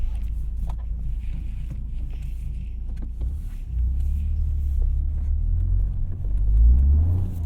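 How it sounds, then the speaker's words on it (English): Constant low road rumble fills a Toyota GR Corolla cabin on rough snowy roads, with scattered clicks and rattles from loose items and engine drone rising toward the end. "Hear all the crap in my car rattling."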